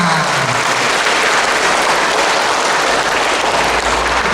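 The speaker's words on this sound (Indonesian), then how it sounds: "tepuk tangan ya" At a regional government ceremony in Lampung Tengah, the gathered audience claps for the PKH social-assistance companions. The dense, even roar of many hands continues without a break, sounding almost like heavy rain.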